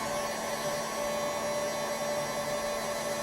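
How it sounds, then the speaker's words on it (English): A heat gun blows continuously with a steady airy whoosh and an even electric hum, aimed at the side body molding of a GM truck, close and unbroken. "we're going to come in here with a heat gun"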